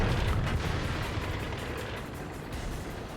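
Heavy, rumbling tank cannon fire and low engine drone in World of Tanks, a loud boom at the start fading into sustained low roar with faint repeated thuds.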